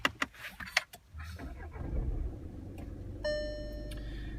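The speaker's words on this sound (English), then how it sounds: "So I'm just going to turn the engine on." Volkswagen Passat engine starting, a few sharp ticks and clicks, then a short crank and a low idle rumble, followed by faint electronic chimes from the cabin.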